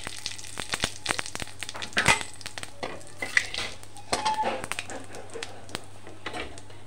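Cumin seeds and spices hitting hot oil in a Bengali fish curry tempering, with a busy crackle and hiss of sizzling broken by repeated sharp stirring clicks and scrapes against the pan, close by and with no voices.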